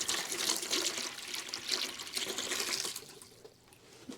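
Water poured into a bucket to mix HENRY 740 RapidPro floor leveling compound gushes loudly and steadily for a few seconds, then tapers off near the end.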